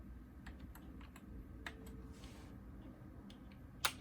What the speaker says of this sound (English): This is awkward typing around.